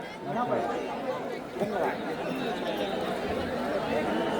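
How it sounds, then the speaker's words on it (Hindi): A huge crowd gathered at night at the Sangam in Prayagraj on the eve of Mauni Amavasya during the Mahakumbh, a constant dense murmur of many voices with scattered nearer calls. "मौनी अमावस्या की पूर्व संध्या पर लोगों की भारी भीड़"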